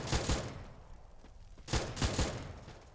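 Gunfire in the mobile battle game Free Fire sounds as two quick pairs of muffled shots, one near the start and one later, separated by a quiet gap of low background noise.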